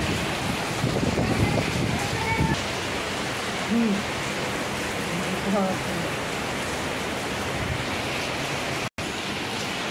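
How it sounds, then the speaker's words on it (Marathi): Steady, dense hiss of heavy rain pouring down without a break, with a few brief thumps and faint tones breaking through the roar. "बघा आमच्या इथे कसला पाऊस पडत आहे"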